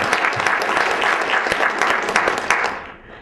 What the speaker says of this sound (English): we really should give ourselves a round of applause for our 10th anniversary